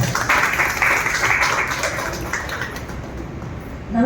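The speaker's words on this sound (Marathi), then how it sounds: "आपण यांच्यासाठी टाळ्या वाजवून स्वागत करूया." An audience applauds in a hall to welcome Smt. Ushatai Bhave, the president, with dense, steady clapping that fades slightly toward the end.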